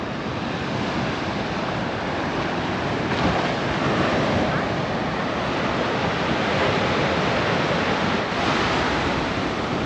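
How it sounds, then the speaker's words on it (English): Surf rolling onto a Caribbean beach at Rockley Bay, Barbados, with palm trees along the sand: a steady, loud wash of breaking waves mixed with wind rumble across the mic, with no break in it. "here's your quintessential Caribbean beach scene and leaning palm tree"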